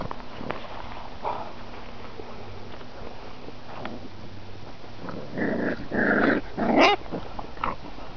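A puppy gives short, rough growls and snarls up close, building toward the end, with some shuffling in the background.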